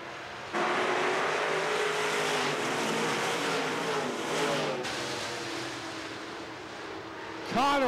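Stock cars race three wide down the front straightaway at RPM Speedway, their engines making a loud, sustained roar. An announcer calls the race over the noise.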